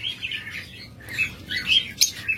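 Cockatiels and lovebirds in a bird shop give short, bright chirps and tweets in quick irregular bursts, moderately close, with no voices heard.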